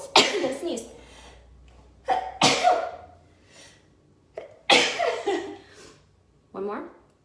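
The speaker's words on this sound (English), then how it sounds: "I'm gonna sneeze." A woman sneezes indoors, a sharp burst followed by a second sneeze a couple of seconds later, with a final shorter sniff or exhale near the end; close and fairly loud, with no other sound between them.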